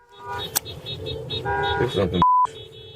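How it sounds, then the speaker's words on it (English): A car horn sounds in a short steady blast near the end, heard from a street where vehicles are moving, with people talking and traffic noise underneath. "School teacher is driving next to them, honking her horn"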